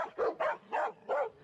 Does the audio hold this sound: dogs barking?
yes